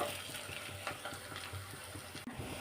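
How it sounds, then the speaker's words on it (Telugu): Semolina gulab jamun balls fry in hot oil until golden, a soft, continuous bubbling sizzle with faint scrapes and one brief clink as they are turned, heard fairly quietly. "మంచి కలర్లోకి వచ్చేటట్టు వేయించుకోవాలి."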